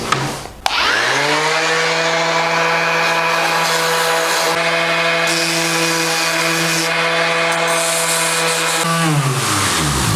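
A sanding disc grinds fibreglass on a homemade surfboard, whining steadily at a constant high pitch for several seconds after a brief start-up, then winding down at the end; loud and close, no talking.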